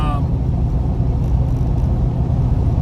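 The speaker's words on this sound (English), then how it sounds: "The idle's good." A small-block engine fitted in a Porsche idles close by with a dense, even low rumble, steady and throaty for a few seconds.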